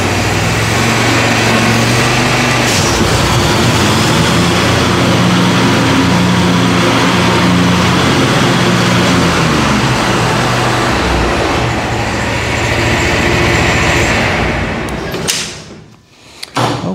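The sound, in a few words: Z920m zero-turn mower engine revving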